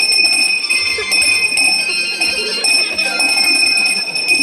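A bell rung to start a stage play rings on and on in a sustained, bright metallic tone, loud and close, with a low rumble of background activity beneath.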